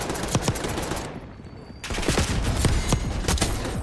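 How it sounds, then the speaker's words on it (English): Tanto 22 full-auto submachine gun in Call of Duty Black Ops 6 fires in steady rapid bursts, a brief pause, then resumes its quick rhythmic chatter, loud and close. "This full auto submachine gun is all about precision since it is extremely accurate from medium to"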